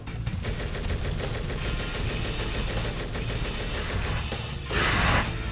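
Dense gunfire in the PC shooter Kill Deal rattles continuously in rapid automatic bursts, with a louder blast-like burst near the end, all fairly even and without talk.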